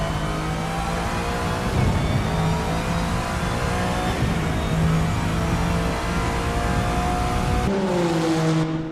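GT3 race cars circle the Motegi circuit in a racing video game, their engines droning and revving loudly without a break, with a pitch shift near the end as a car passes or changes gear.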